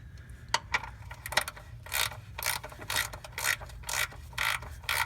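A hand ratchet snugs a car's oil drain plug back into the oil pan during an oil change, clicking in quick repeated bursts close by.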